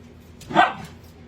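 Pet dogs barking indoors in a farm kitchen during cooking, a short cluster of barks peaking mid-clip at moderate loudness, close by, with no talk.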